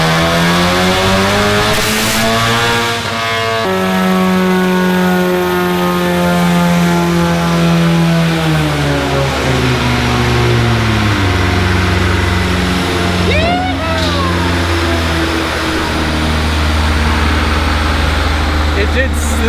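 A fully built big-turbo Ford Mustang EcoBoost making a dyno pull at about 40 psi of boost: a loud, continuous engine roar whose pitch climbs steadily, dips in the middle, then surges again, with voices faintly underneath.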